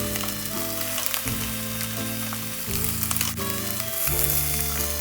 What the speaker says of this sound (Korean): 팬 한쪽에다가 다진 양파와 다진 마늘을 소금 살짝 뿌리고 볶아주세요